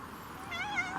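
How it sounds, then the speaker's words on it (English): A small cat gives a single short, faint meow, rising and falling in pitch, heard close by over quiet background. "Got a cute little cat over there."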